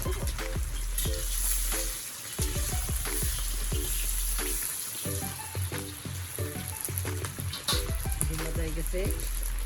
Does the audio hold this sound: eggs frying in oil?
yes